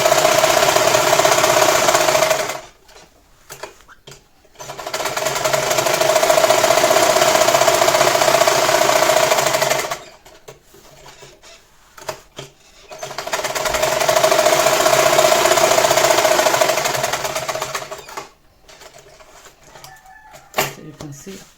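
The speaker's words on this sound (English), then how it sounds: "I'll sew the lining down on it so that I'll be able to trim off the excess" A sewing machine stitches the lining of a fabric shoulder bag, its motor running in three long, loud steady bursts of rapid needle clatter separated by short pauses with faint handling noises.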